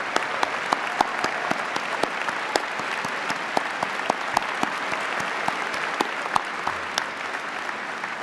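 A commencement audience claps steadily for standing faculty members, a dense, even wash of applause that carries on without a break, with sharper individual claps popping out above the crowd.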